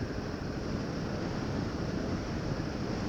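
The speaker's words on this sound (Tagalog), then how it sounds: "Bihip ng hangin na malamig." Steady cold wind on a motorcycle ride to Acoje Mines roaring across the microphone, a constant broadband rush with no gaps, loud and close, with no voices.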